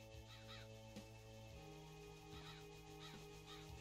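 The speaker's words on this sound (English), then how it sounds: "Ah, the sound of birds." Crows cawing in the video game Hexen: several harsh caws repeat at intervals over a steady, low ambient game drone.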